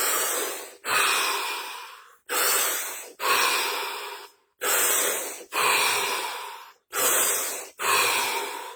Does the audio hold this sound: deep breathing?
yes